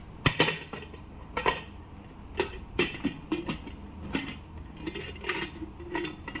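Utensils are set down and arranged in a home kitchen, giving a series of sharp metallic clinks and knocks at irregular intervals, close by and fairly quiet, with no talking.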